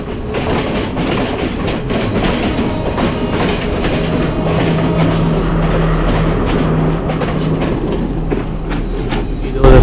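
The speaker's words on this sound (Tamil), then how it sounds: "இது ஒரு பேசஞ்சர் ட்ரெயின் இப்போ கிராஸ் பண்ணி போகுதுல." A passenger train crosses close by at a small station in Sri Lanka, its loud steady rumble and rhythmic clickety-clack of wheels on rail joints filling the whole stretch without letup.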